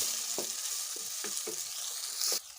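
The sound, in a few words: stirring peas and capsicum in a cooking pot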